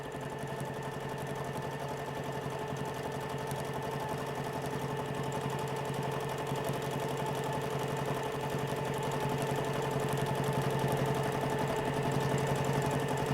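A sewing machine quilting a fabric block hums in one long continuous, fairly loud mechanical drone with a steady motor whine, holding even throughout with no voices.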